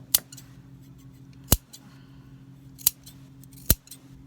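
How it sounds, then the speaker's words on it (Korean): Three crisp scissor snips clipping notches in coat fabric cut through quiet, spaced unevenly over a few seconds, with a faint low hum in the background. "여기다 이렇게 가위고미를 넣어야 된다 그랬어요"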